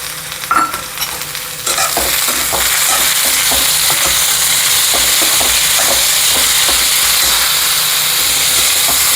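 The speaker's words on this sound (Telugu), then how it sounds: "ఇందులోనే ఉల్లిపాయలు ఫ్రై చేసుకోవాలండి." Onions, tomatoes and green chillies fry in oil in a pan for a prawn masala curry, starting with a few clatters of stirring before a loud, steady sizzle and hiss that carries on, with occasional scraping of the spoon.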